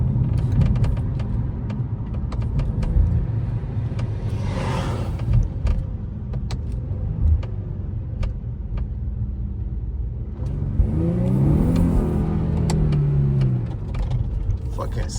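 A brand-new car's engine rumbles while accelerating and downshifting, a low close drone that rises in pitch twice, with brief voice sounds over it.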